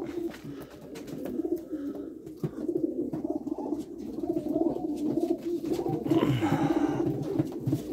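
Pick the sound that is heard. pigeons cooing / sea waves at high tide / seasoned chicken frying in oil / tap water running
pigeons cooing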